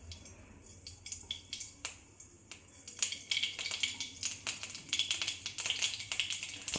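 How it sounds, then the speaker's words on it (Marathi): Mustard seeds crackle in hot oil for a kanda poha tempering, sharp sparse pops early that grow into a dense, rapid run of snapping crackles, close and fairly quiet. "मोहरी छान तडतडली, कारण तेल तापलेलं आहे."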